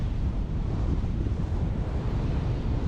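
Steady, moderately loud wind roars across the microphone of a paraglider flying in toward a landing, a constant low rush with no speech.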